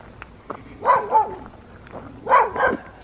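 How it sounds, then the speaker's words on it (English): Dogs out in remote mountain countryside bark at a distance, two clusters of a couple of barks each separated by quiet outdoor ambience. "Out in the middle of nowhere, and the dogs are barking at me."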